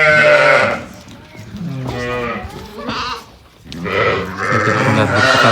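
A flock of sheep with lambs, about fifty ewes, bleats loudly on a farm, with several overlapping calls close by in quick succession and a brief lull midway.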